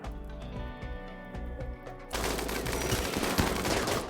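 Sniper rifles and other gunfire crack in a first-person shooter game, a quieter first half of scattered shots giving way to a dense, loud barrage of rapid overlapping gunshots.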